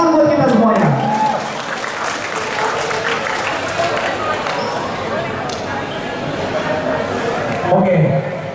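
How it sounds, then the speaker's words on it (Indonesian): An audience at a Batak Berlari HKBP Pasar Rebo charity run event at QBIG BSD City claps in a steady wash of applause, with an announcer's voice at the start and end. "Tepuk tangan buat kita semuanya."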